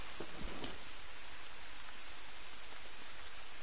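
Steady rain pours in the jungle survival game Green Hell, a dense, even hiss of falling drops that holds unbroken throughout with no voices.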